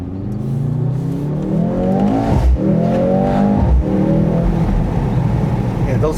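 A 2025 Mercedes-AMG GLC 63 S E Performance driving and accelerating, its engine note climbing in rising harmonics through gear changes, loud and close from inside the cabin.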